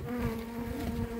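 Honeybees buzzing close by during a pine honey harvest and hive inspection, a steady, dense humming drone filling the air without pause, no voices.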